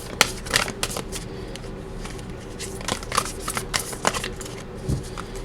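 Brand new, oversized playing cards being shuffled by hand, giving repeated close riffling and snapping bursts in an uneven rhythm with short pauses, with no talking.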